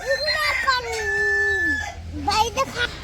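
Village chickens nearby, a rooster crowing one long drawn-out call amid clucking hens, with a person speaking briefly toward the end.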